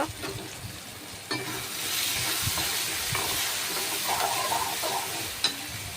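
Tomatoes with ginger garlic paste and salt sizzle steadily in a hot pan, a close, continuous frying hiss broken by a few clanks and scrapes of stirring.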